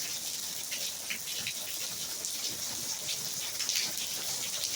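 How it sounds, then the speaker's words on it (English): Rain falls steadily in northern Nevada, a continuous close hiss of drops pattering on surfaces with scattered louder splashes and no voices. "we got some rain coming down up here in northern Nevada today."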